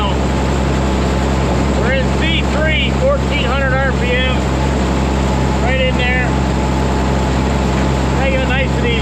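A low, steady tractor engine drones throughout, idled down to 1400 RPM in gear C3, with a person talking over it in short bursts.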